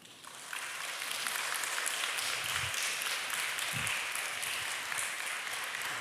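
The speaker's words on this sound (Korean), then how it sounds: "다시 한 번 더 큰 박수 전달해 드리겠습니다" A church congregation applauds after a lecture at a Sunday service, sustained dense clapping that fills the room from near to far and holds steady throughout.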